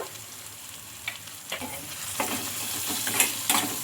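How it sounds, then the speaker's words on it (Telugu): Softened tomatoes with turmeric and salt sizzle in a pan as they are stirred, with repeated scraping spoon strokes over a steady frying hiss, heard up close without talk. "ఇంకా ఇలా మొత్తం బాగా కలిపేసుకుందాం. పసుపు పచ్చివాసన పోయే వరకు అయితే వేయించుకోవాలి."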